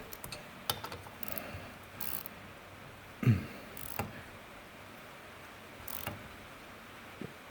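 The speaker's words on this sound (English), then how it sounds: "after 30 years of wrenching, those are legitimate clicks" Sharp, sparse clicks of a torque wrench on Harley-Davidson lowboy engine bolts, several isolated ratchet snaps spaced a second or so apart against a quiet workshop background.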